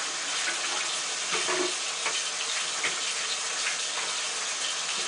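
Cold tap water gushes steadily into a salad spinner bowl for rinsing lettuce, a loud, continuous splashing flow that fills the whole stretch with no voices.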